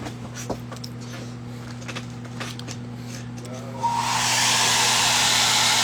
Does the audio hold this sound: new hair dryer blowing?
yes